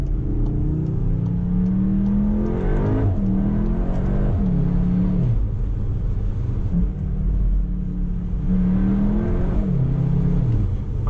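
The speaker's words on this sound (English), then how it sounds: "Let's put it back into Cupra mode. Let's do some accelerations. Downshifts are good, by the way." A Cupra Formentor 310HP SUV pulls hard through rising engine notes, with quick drops in pitch as it downshifts, twice over; the exhaust and engine rumble stay loud and close with no talk.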